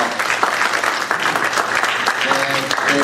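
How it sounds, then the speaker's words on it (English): An audience applauds after a talk at an IEEE Computer Society Silicon Valley event, a dense, continuous patter of clapping close to the mic. "please give a big round of applause to Rhonda for a great talk"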